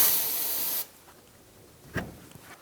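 An aerosol can of cleaner hisses steadily for under a second onto a Toyota Camry brake bleeder, then cuts off, followed by a faint quiet room and a small clunk.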